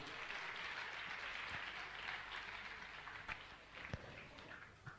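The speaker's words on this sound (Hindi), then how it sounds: "मैं चाहूंगा उनके सम्मान में आप जोरदार ताली बजाकर उनका सम्मान करें।" An audience at a religious question-and-answer gathering claps in honour of a guest, a continuous, fairly faint wash of many hands with a few sharper claps and bumps as it tapers off, no speech over it.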